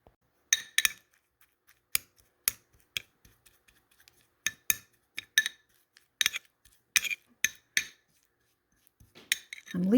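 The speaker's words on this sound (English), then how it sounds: "Yep, just mixing that brown sugar in." A spoon stirs brown sugar into a kumquat mixture for jam, giving irregular sharp clinks and scrapes against the bowl, spaced by brief pauses and heard close up in a quiet kitchen.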